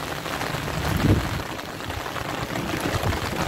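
Rain falling outdoors in Burundi, a continuous even patter and hiss of drops with small bumps in level and no talking.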